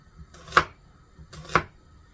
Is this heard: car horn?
no